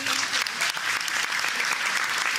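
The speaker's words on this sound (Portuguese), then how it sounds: "Forte aplauso." Loud, sustained applause from a seated school audience greeting a teacher, dense and even clapping from start to finish without a break.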